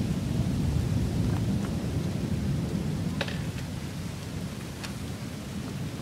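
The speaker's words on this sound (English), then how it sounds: "Whoa. It's quite the thunderstorm." Heavy rain pours steadily through a severe thunderstorm beside a house, with low rumbling thunder throughout and a couple of sharp crackling strikes cutting through the constant wash.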